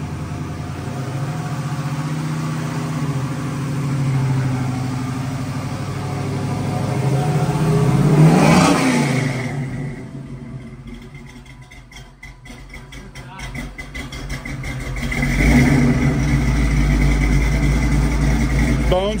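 A bone-stock Chevrolet Monte Carlo with a ZZ4 crate-motor V8 idles with a steady lumpy rumble, then revs up twice in long swelling sweeps that fall back to idle, loud and close.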